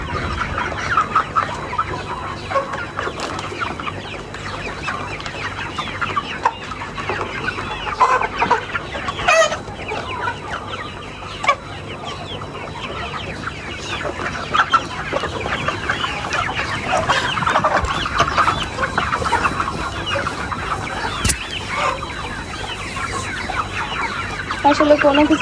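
Chickens on a poultry farm cluck and chatter steadily throughout, with the odd louder squawk and faint crowing standing out from the flock.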